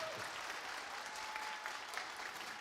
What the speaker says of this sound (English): they deserve a round of applause just for the crazy amount of work they did